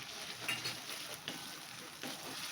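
Potatoes with black pepper and spices sizzle and fry gently in a pan for a fasting-day upma, with soft stirring scrapes now and then over a low, steady crackle.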